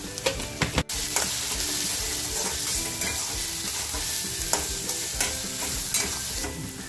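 Mutton masala with turmeric, garam masala and byadgi chili masala fries village-style in a pan, a steady close sizzle broken by repeated scraping stirs and one sharp knock near the start.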